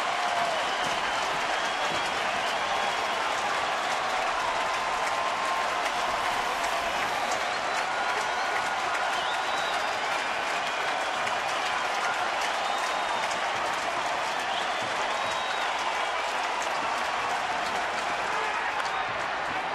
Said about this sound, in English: And the crowd on its feet.